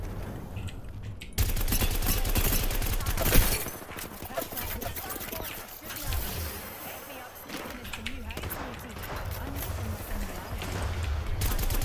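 Rapid gunfire from the Apex Legends battle royale game, dense bursts and loud reports packed across the clip with a sharp peak early on, mixed with game effects and players talking over it.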